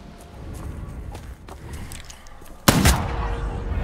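One revolver shot in Bloodhunt cracks out sharp and loud near the end, after a stretch of faint footsteps and low game ambience.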